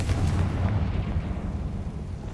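Confringo spell explosion in the Hogwarts Legacy video game, a loud rumbling blast with heavy low-end booming that sustains through the whole moment, no voices over it.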